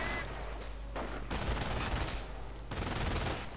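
Sustained MG42 machine gun fire in a World War II strategy video game, a dense continuous rattle of bursts with brief dips in intensity, loud and close throughout.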